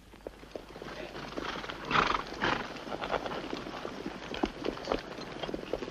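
Cavalry horses ridden at a 1870s Little Bighorn-era army camp, hooves clopping in an uneven, busy rhythm with a horse whinnying briefly, moderately near amid general outdoor bustle.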